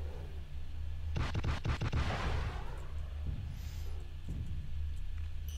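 Missile launches and explosions in a Chaos March battle on Ivory Towers, a rapid cluster of heavy booms followed by a rolling rumble, then two fainter distant impacts.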